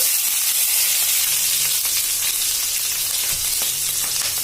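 Green chillies cut lengthwise drop into hot oil already holding urad dal and sizzle loudly. The frying hiss is close and steady throughout, with a few small pops and stirring sounds.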